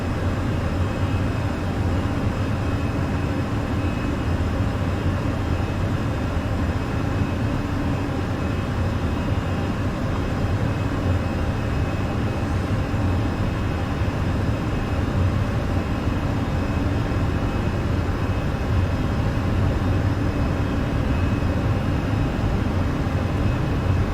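Airbus A320 engines in a flight simulator build toward takeoff thrust, a loud, dense and steady roar with a broad whine sustained evenly throughout without any voices.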